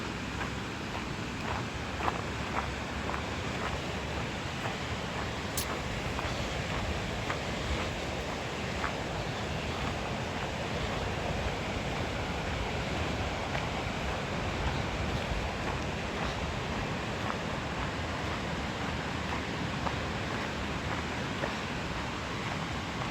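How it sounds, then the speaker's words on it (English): Whitewater river rapids in the middle of Petoskey, Michigan, a continuous, dense rushing roar of churning water heard close by, steady and unbroken throughout with no voices. "Whitewater"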